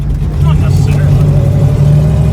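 A turbocharged 1,000-plus whp Trans Am with a PowerGlide transmission drones loudly from inside the cabin through a smooth gear shift, with steady low engine rumble and people talking over it.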